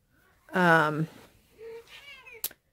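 A house cat lets out a loud, drawn-out meow at close range, followed by a softer, wavering second meow and a sharp click.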